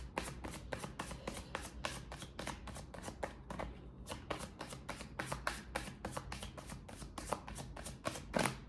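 Tarot cards being shuffled by hand, a steady run of quick, close riffling flutters with a short pause partway through, no talking.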